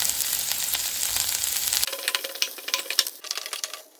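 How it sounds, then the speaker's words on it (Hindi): Garlic, onion and green chili hit hot oil with a loud hiss that quickly drops to a crackling sizzle with sharp spatters and pops, close up, over about four seconds, with no speech. "तेल गर्म होने के बाद इसमें डालेंगे लहसुन, प्याज"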